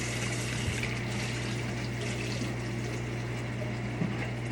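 Water runs steadily from a kitchen tap as a cutting board is rinsed, a continuous close hiss and splash with a couple of faint knocks.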